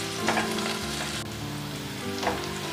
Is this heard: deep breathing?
no